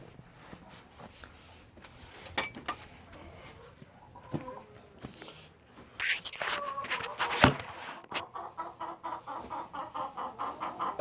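Chickens on a dairy farm cluck and squawk up close, at first sparse and then in busier, rhythmic bursts of clucking alongside footsteps and handling noises.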